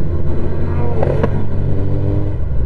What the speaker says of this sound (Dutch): Klap bij die uitlaat.